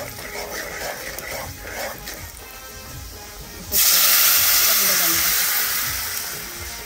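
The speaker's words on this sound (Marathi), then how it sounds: "आपला आता रस हा बनवलेला रस उकळलाय" A fish curry broth boils on a village wood-fired chulha, with a low bubbling hiss that suddenly swells into a loud, steady steam rush partway through.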